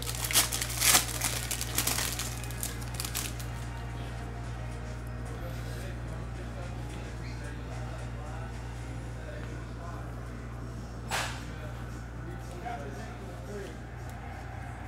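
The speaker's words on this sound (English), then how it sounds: "Let's pop this pack open, let's see what we got." A 2018 Prizm football hobby foil pack is torn open with a burst of crinkling and ripping near the start, then quieter handling of cards over a steady low hum, with a speaking voice throughout.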